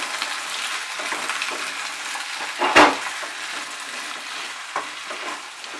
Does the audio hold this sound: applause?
no